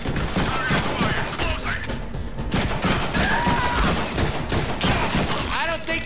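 Gunfire in the Deadpool video game, a dense, loud run of rapid shots and mechanical clatter with scattered voices mixed in, continuing without pause.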